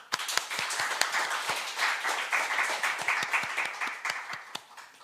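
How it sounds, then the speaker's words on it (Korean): Church congregation members clap for young people preparing for entrance exams. The applause is moderate and fairly close, with individual sharp claps standing out above a steady patter for several seconds. "다시 한번 큰 박수 부탁드립니다"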